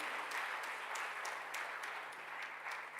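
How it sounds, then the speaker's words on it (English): Steady audience applause at a college inauguration ceremony for first-year classes, a continuous patter of many hands heard from a distance, fairly faint over a low electrical hum. "I think this deserves a big round of applause."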